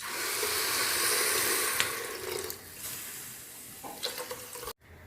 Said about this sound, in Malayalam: അപ്പോൾ 2 കപ്പ് വെള്ളമാണ് ചേർത്ത് കൊടുക്കുന്നത്.